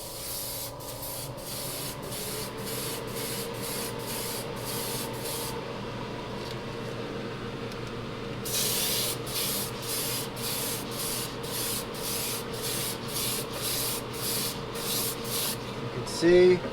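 Spray paint on a Kyosho Outlaw Rampage Pro RC car body, rapid repeated short hissing bursts in a steady rhythm, close and fairly loud, with a fan humming underneath.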